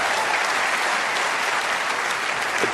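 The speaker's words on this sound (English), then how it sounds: "Are they going to keep the applause going while he's clearing up?" Sustained audience applause at the 2023 UK Championship snooker final between Ronnie O'Sullivan and Ding Junhui after a century break, a dense steady patter of many hands filling the arena throughout.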